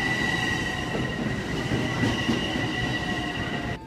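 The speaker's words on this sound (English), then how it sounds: "we're on the train right now" A passenger train ride, heard from inside the car, with a steady low rumble of wheels on the rails and a faint high whine running throughout.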